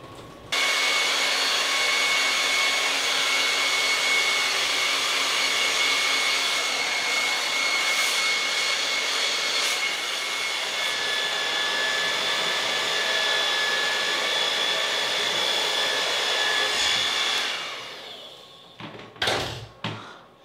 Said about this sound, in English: the next step is to use the blow dryer to dry my hair